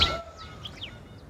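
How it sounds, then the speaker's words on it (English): Bird calls: a few faint, brief chirps and sweeping tweets at some distance, following a short louder burst at the start, with no voices. "how the sounds of birds help us heal"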